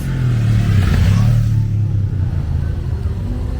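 A four-cylinder EcoBoost car engine idles and revs with a deep, steady rumble, close by and fairly loud, the pitch rising briefly before settling, at a cars and coffee meet in Nantes.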